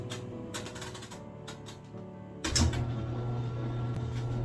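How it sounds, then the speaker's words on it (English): An Inglis top-loading washing machine with its drain pump starting up, a steady low mechanical hum that rises abruptly partway through and then continues evenly, with no talking. "as you can hear now, my English top loader washing machine is working right now."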